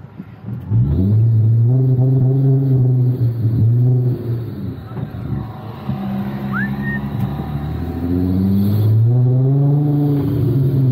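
A Nissan Skyline R32 engine revs repeatedly, rising and falling in loud, close bursts of throaty exhaust roar with brief dips between pulls.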